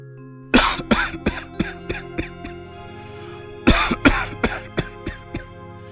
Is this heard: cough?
yes